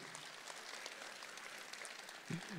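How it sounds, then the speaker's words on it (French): Audience applause at a sports awards night in Digne, a steady wash of clapping throughout with a brief low voice near the end. "on l'applaudit très fort"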